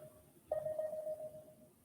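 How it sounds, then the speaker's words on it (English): A single soft electronic notification tone sounds once, a brief clear beep that fades over about a second against quiet room hiss. "That notification was late,"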